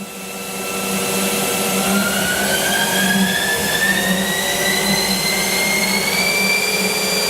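A 2018 Haas ST10Y CNC lathe spindle runs up to speed with a loud, steady whine whose tones slowly climb in pitch, holding constant after the initial ramp.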